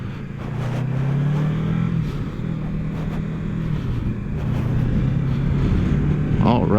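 A 2020 Kawasaki Versys 650 adventure motorcycle pulls away with a steady low engine drone that swells as it rides off, with wind rushing across the microphone throughout.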